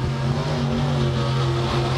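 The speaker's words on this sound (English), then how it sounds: "Here comes the T-Zero of Travis Foltz." A super late model race car engine drones steadily during qualifying at Tazewell Speedway, its mid-pitched tone held fairly constant and close, with a brief shift right at the end.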